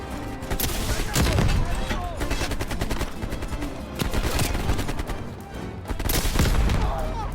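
Rapid heavy gunfire from a gunship in Call of Duty Cold War hammers in dense sustained bursts with booming impacts, loud and continuous with brief pauses between volleys.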